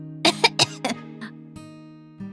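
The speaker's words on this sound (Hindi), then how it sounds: "ग्रिल के धुएं से उन्हें थोड़ी खांसी आती है।" Three or four harsh, close coughs from grill smoke in a cartoon, in quick succession, then a softer one and a faint throat sound over a steady low hum.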